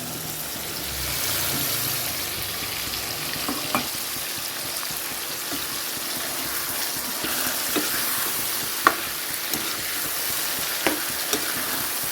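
Jackfruit pieces and cut potatoes fry in a pan for a jackfruit bhaji, with a continuous hissing sizzle close up and scattered soft stirring knocks.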